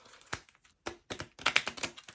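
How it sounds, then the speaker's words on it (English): A deck of playing cards is shuffled against a knee, giving quick, dry riffling taps and flutters in short bursts with brief pauses between. "I'm going to try and get a little real accurate semblance of a shuffle on my leg."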